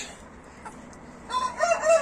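Six hens and two roosters in a backyard garden cluck and call, quiet at first and then a louder burst of crowing and clucking near the microphone.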